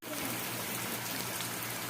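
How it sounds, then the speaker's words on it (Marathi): Heavy rain pours down in a dense, even hiss of falling water that stays loud and steady from start to finish, with no talking. "खूप पाऊस चालू"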